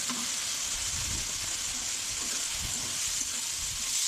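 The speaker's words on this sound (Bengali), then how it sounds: "মশলা কষানো হয়ে যাচ্ছে, দিয়ে দেবো ভেজে রাখা সয়াবিন।" Fried soya chunks hitting a sizzling spice masala in a pan for an egg and soya curry, a loud continuous hiss that stays level throughout, close up with no talking.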